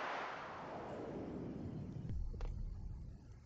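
A meteorite explodes in the farming video game Stardew Valley, heard as a rumbling, fading blast followed by a few sharp thuds, moderately loud and alone.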